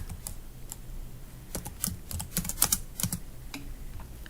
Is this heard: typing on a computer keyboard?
yes